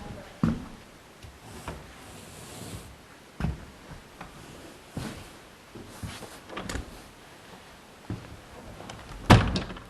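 Several dull thuds and knocks of a door being shut, spaced out in a quiet room, with a sharper bang near the end.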